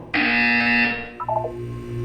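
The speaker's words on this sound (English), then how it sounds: "When you hear the buzzer, look down at the floor" A loud electronic buzzer tone in the Portal 2 video game sounds for about a second, then a short burst of quick chiming blips and a lower sustained hum follow.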